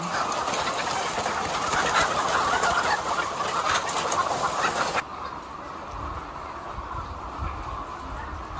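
Chickens cluck and murmur in a poultry room on an egg farm in San Jose, Batangas, a dense continuous flock noise close around, then quieter and more distant for the last few seconds.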